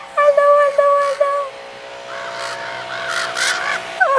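Harsh caws from ravens come in a few close, loud bursts, followed by fainter croaking calls and a rumble of background noise.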